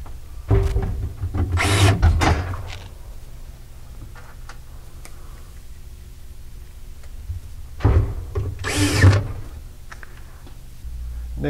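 Power drill driving screws into the top of a freezer cabinet: two separate bursts of high whirring, each a couple of seconds long, separated by quiet handling clicks and taps.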